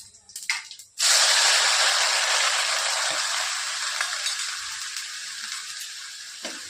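Mustard seeds, cumin and onion hit hot oil for a spring onion and gram flour curry. After a few light taps comes a sudden loud hiss that slowly settles into a steady, fading sizzle.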